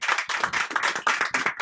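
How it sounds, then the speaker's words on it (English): Applause at a business forum in Davos for a sponsor after his introduction, a short burst of brisk, close clapping from a modest group of hands in uneven rhythm. "So a round of applause for Mr."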